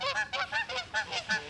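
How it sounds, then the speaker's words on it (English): Waterfowl, swans or ducks, land on open water while honking, a rapid series of about eight nasal honks close by and fairly loud, with no talking. "swans, ducks, whatever the heck they are."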